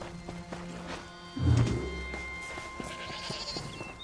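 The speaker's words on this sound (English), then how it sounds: "I found a sheep!" A sheep bleats once, loud and close, in the Elder Scrolls Online video game, with soft footsteps and a faint thud in the game ambience around it.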